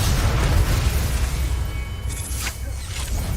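Fire spell Incendio cast in Hogwarts Legacy, a loud roaring blast with rumbling low-end burst that sustains throughout, with a few sharp crackling flickers near the end.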